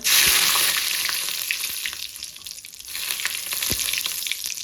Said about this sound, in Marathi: थोडं तेल गरम झालं ना, आपण जिरे टाकून घेऊया. नंतर कढीपत्ता